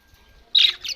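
Newly bought parakeets give a couple of quick, bright chirps close by, the second softer, after a near-silent moment with no talking.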